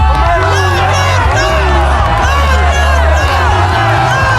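A crowd shouts and cheers at a costume contest during the 2025 Łeba motorcycle rally. The voices are loud and dense, with a low steady hum underneath and a single voice rising above the babble.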